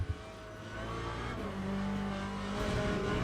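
A Mercedes GT3 race car in Le Mans Ultimate accelerates, its engine rising in a sustained loud drone with climbing pitch after a short low rumble at the start.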